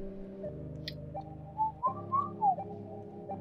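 A person whistles a short run of clear notes that glide up and down over a steady low background hum. The whistling is soft and brief.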